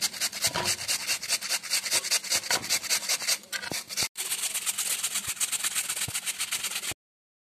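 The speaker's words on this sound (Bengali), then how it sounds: "এবার একটা গ্রেটারে করে এটাকে চেঁচে নেব।" Peeled potatoes rasped against a grater in steady, rapid back-and-forth strokes, loud and close, with a brief pause before a second continuous run of grating.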